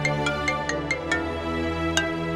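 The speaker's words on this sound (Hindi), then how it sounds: "फरहत का ही कॉल है।" A phone rings with an incoming call in a Hindi TV serial, a bright electronic melody of repeated tones in a quick steady pattern, close and clear with no talk.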